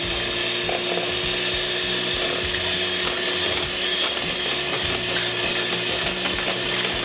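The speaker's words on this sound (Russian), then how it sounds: "Постепенно взбив муку с яйцами, добавляем молоко." Flour and eggs are beaten together into a smooth pancake batter, giving a steady, continuous scraping and rubbing churn with no pauses and no talk.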